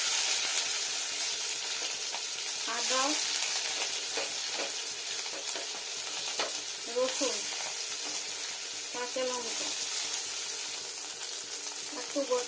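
Chopped onion sizzles in hot oil in a pan for a mixed vegetable and boneless chicken dish, a steady close crackle broken by a few sharp scraping stirs of a spoon.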